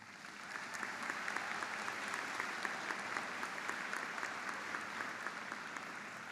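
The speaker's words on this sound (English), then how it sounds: "please join me in giving them a round of applause" A crowd at the Kennesaw Mountain High School graduation claps in a steady, dense round of applause that holds at an even level throughout, heard from a moderate distance.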